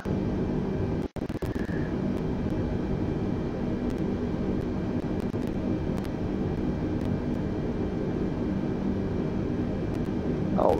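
A32NX airliner engines at full thrust in Microsoft Flight Simulator 2020: a steady, loud jet roar with constant tonal whine, sustained throughout with a brief dropout near one second and a rising tone at the end.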